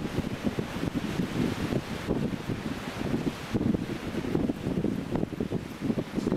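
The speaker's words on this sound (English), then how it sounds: "That's at about 25 miles per hour wind." Strong wind of about 25 miles per hour blows around a Lynx vertical-axis wind turbine, a continuous loud rushing roar with gusty surges and buffeting against the microphone.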